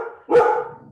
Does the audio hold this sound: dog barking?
yes